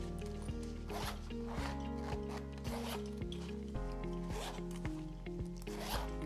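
A small zipper on a Lululemon Everywhere Belt Bag in velour is run back and forth repeatedly, quick close zipping strokes in a steady rhythm, over faint background music.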